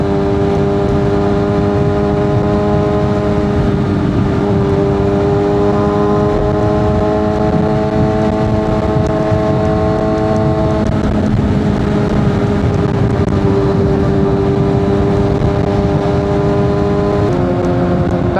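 A Kawasaki ZX6R motorcycle cruises along an expressway in Tanawan, Batangas, its engine a loud, steady high-pitched drone with rising and falling pitch as it shifts and holds speed, wind rush underneath throughout.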